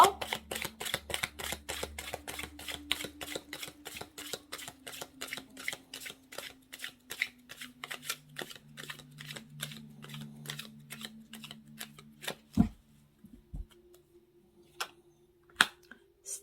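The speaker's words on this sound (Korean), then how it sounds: "오쇼젠 카드도 3장 뽑아볼게요" Osho Zen tarot cards are shuffled with a long run of rapid, evenly spaced flicks for about twelve seconds, followed by a few isolated taps and soft thumps as cards are drawn and set down.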